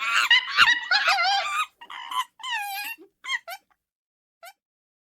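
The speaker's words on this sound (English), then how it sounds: "It's a chimpanzee." A chimpanzee gives a run of loud, high hooting and screeching calls, dense at first and then breaking into shorter separate cries that fade to silence.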